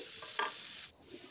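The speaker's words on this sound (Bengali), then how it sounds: "তাই আমি হালকা করে একটু ভেজে নিচ্ছি।" Cauliflower florets fry in a pan over a low-to-medium gas flame, giving a soft sizzle with a short scraping stir partway through.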